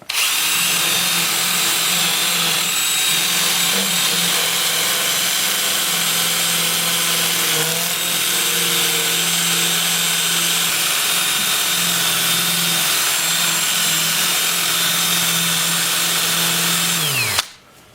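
Sycamore wood is sanded on a lathe with 180 grit sandpaper, a loud, continuous whirring drone with a slight wavering in pitch that runs steadily and then cuts off abruptly near the end.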